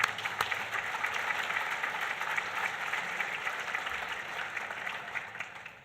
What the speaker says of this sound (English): Please help me give a warm round of applause to all of our sponsors and leadership for making today's event possible.